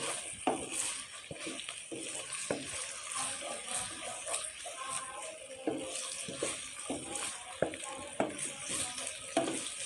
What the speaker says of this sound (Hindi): कलेजी शामिल कर देंगे, अच्छा सा भून लेंगे इसको